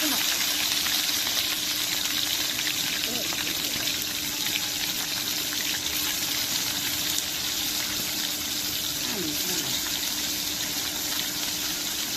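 Chepa shutki puli, a fermented dried-fish dumpling, frying in hot oil gives a steady, close bubbling sizzle that stays even throughout, with no talk.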